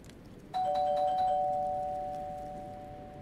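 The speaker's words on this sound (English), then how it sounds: "why is my doorbell being rung now?" A doorbell rings once at night in the Fears To Fathom horror game, a clear two-tone chime that starts abruptly and lingers as its tones slowly fade, with no talking over it.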